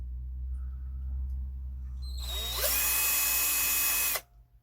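A drill with a tiny bit spins up after a quiet moment and whirs steadily for nearly two seconds, drilling a small hole at a stud mark, close and fairly loud, then stops abruptly.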